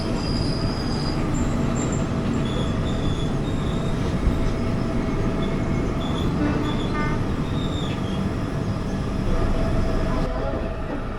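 A passenger train runs steadily close by on Indian rails, with continuous wheel rumble and clatter and some faint squeals, heard alone with no talk.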